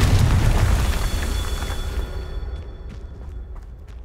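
Confringo explosion spell cast in Hogwarts Legacy during a Merlin trial: a loud booming blast at the start that rolls and fades over a few seconds, with faint high magical tones lingering.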